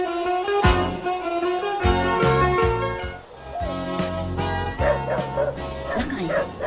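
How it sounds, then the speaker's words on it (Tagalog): A dog barks repeatedly in short, loud bow-wow bursts with a few yips and whimpers, heard close up over steady background music in an Ilocano comedy drama scene. "inka mang kitaan no asino di tataulan ti aso ijerwar."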